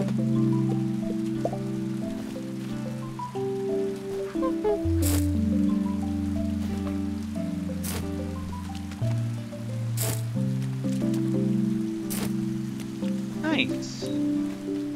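Rain falls steadily in the farming game Paleo Pines, a soft continuous patter beneath a looping melodic game soundtrack, with a brief spoken word over it.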